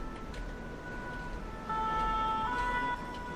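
Ambulance siren from the emergency-services video game Emergency 4, a steady tonal wail that rises in pitch and loudness partway through, heard alone at moderate volume.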